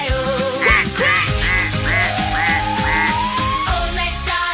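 A cartoon-style duck gives a run of six rhythmic quacks over a bouncy children's nursery song about a farm, loud and upfront with backing music.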